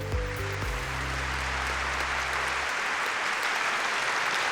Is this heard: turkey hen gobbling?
no